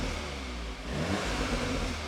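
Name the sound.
cold Audi S3 engine revving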